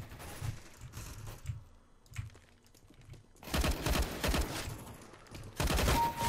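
Rapid gunfire in the Counter-Strike: Global Offensive video game, Arms Race mode: scattered clicks and shots give way to two loud, dense bursts of automatic fire near the end, with no talking.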